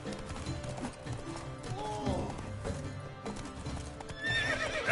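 Roach, Geralt of Rivia's horse in The Witcher 3, gallops with quick rhythmic hoofbeats and lets out a whinny, all under a busy game soundscape with a voice speaking.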